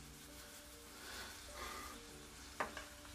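Garlic sizzling in a frying pan while prawn and mushroom meze cook, a soft steady crackle running low and continuous, with a few sharp clinks of a utensil near the end.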